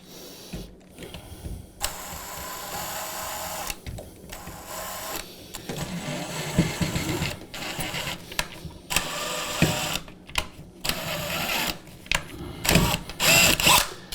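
A power drill drives a screw into an electrical box during wall tiling work, heard as bursts of whirring motor with short pauses between them, close and fairly loud, with no one talking.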